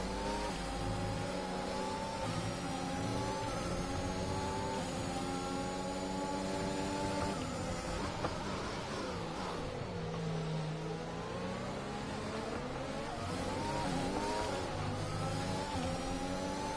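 Race car engine from a racing video game, droning steadily and loud through the whole stretch, with revs rising and falling through gear changes while the car laps a track without traction control.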